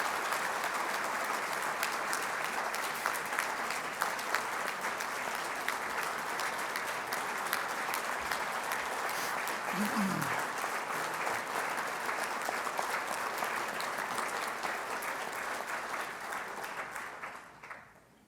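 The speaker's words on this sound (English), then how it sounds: "please give an applause to Captain Sanders and his wife Susan" Steady applause from an audience at an aviation hall of fame induction ceremony, dense clapping sustained at moderate distance before tapering off and stopping near the end.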